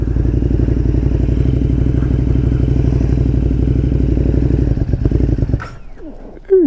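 A KTM 1290 Super Duke R motorcycle engine runs loud and close with a rapid, steady pulsing throb, then the note drops and a brief scrape and thump follow.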